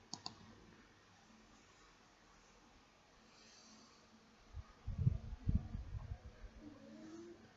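A computer mouse clicks to open a document, giving a crisp, faint click near the start. Later come a few soft low thumps in a quiet room, with no speech.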